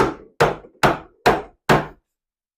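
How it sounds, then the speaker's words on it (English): A hammer strikes the end of a bench holdfast to lock a piece of wood to a workbench, giving five loud, sharp, close blows at a steady, even pace with brief ringing decay after each. "I put this in, and by hammering on the end here,"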